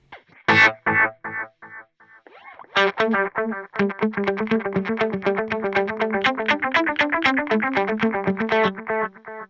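Electric guitar notes feed into a dense dotted-eighth delay with heavy feedback, repeats piling up into a steady rhythmic stream of echoes that keeps sustaining instead of dying away.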